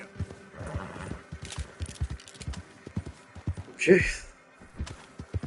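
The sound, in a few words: horse galloping and whinnying in Red Dead Redemption 2 video game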